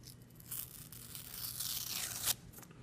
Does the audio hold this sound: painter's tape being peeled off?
yes